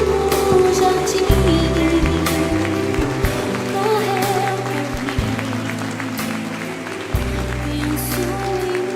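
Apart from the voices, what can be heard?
congregation applauding in church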